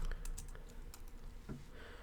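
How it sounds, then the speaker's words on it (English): Password typed on a computer keyboard, a quick run of light key clicks at close range, fairly quiet, with no speech. "And now I'm going to type in my password"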